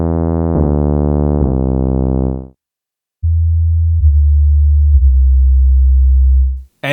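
A Modus synth plays a bright, buzzy sawtooth tone that steps through a few notes for about two and a half seconds. After a short silence, a smoother, duller sine-wave tone holds for over three seconds and ends with a tiny click.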